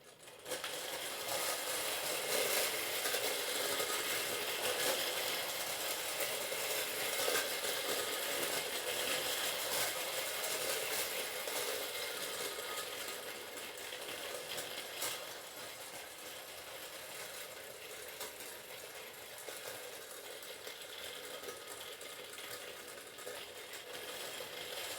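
A 1950s Brimtoy clockwork tinplate train runs along its track with a continuous rattling, whirring clatter, steady and fairly loud throughout before easing slightly toward the end.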